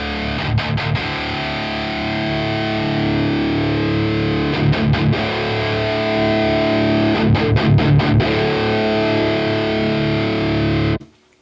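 A heavily distorted electric guitar rings out with sustained, crunchy chords and occasional rhythmic chugs, cutting off abruptly at the end.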